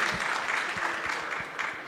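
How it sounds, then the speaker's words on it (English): A warm round of audience applause for four panelists at a Web3 discussion panel: steady, even clapping from a sizable crowd, moderately loud and sustained throughout. "give a warm applause to these 4 amazing panelists"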